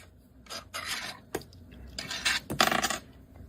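A lottery scratch card is scratched with quick, dry rasping strokes in short bursts at close range, quiet and without talk.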